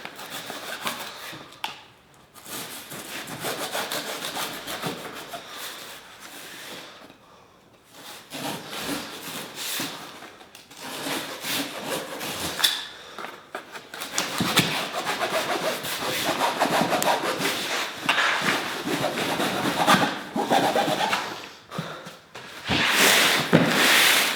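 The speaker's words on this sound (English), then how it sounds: "let's go ahead and crack open this last box, and this box is by far probably the heaviest" A heavy cardboard shipping box from Rockler Woodworking and Hardware is opened with long rough tearing, scraping and rubbing sounds in uneven bursts, close and fairly loud, with occasional short pauses and no clear talking.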